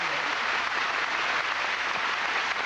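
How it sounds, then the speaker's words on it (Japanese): Arena crowd applauding a badminton rally at the 1992 Japan Open final, a dense, sustained wash of clapping holding steady throughout. "ウィラナタのファイトに場内から大きな拍手。"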